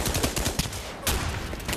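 Rapid bursts of close, loud gunfire crackle in a World War 2 video game, shots overlapping in a dense fusillade for under two seconds with no speech.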